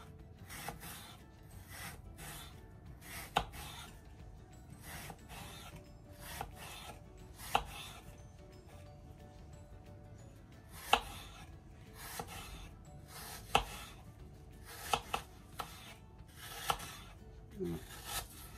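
A knife slices apples into thin lamellae for an apple tart with custard cream, giving soft repeated cutting and rubbing sounds with sharp taps on a board, fairly quiet, with speech faint in the background.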